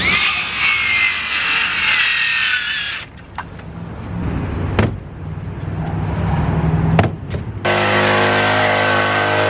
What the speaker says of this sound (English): right now I'm about to cut a skateboard